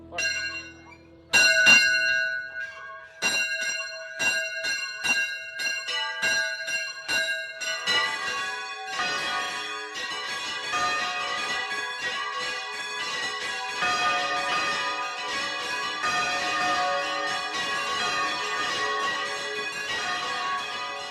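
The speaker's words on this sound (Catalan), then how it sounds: "ens convertim en campaners, volteig de solemnitat en honor a Sant Pere." Church bells ring out on the eve of Saint Peter's feast, starting with a few sparse strikes, then building into a dense, continuous clangor of overlapping bells swinging in a full solemn peal.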